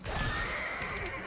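A horse in the video game Diablo Immortal lets out a single loud, close whinny that rises and wavers for about a second, with a faint hint of hoof clatter beneath.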